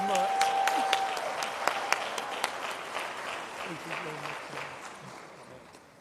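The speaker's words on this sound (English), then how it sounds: "Give him a round of applause." Audience at a conference forum applauding a congratulated attendee, dense steady clapping with a few sharp claps standing out, gradually thinning and fading toward the end.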